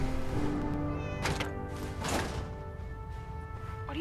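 A cat meows repeatedly in Fallout 4, a few drawn-out mews close by over a low game background hum, with a soft thump or two between calls.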